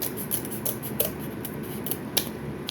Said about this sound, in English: let's grab scissors real quick and try to open this side a little bit.